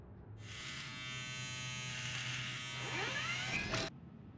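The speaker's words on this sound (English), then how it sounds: "Standing in the bathroom of my suite, with the automated shaver humming" An automated electric shaver buzzes with a steady, close hum that starts abruptly, holds for about three seconds with a shifting pitch near the end, then cuts off.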